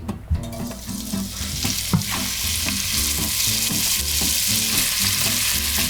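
Bacon fries in oil in a pot with a loud, continuous sizzle, while spoon stirring adds rhythmic scraping and clatter that repeats throughout.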